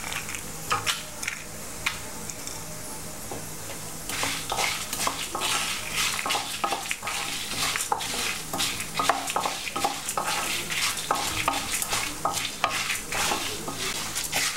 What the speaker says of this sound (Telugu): లో ఫ్లేమ్లో పెట్టుకుని ఫ్రై చేసుకోవాలండి, లేకపోతే మాడిపోతాయి హైలో పెడితే. ఇలా తిప్పుతూ ఉండాలండి.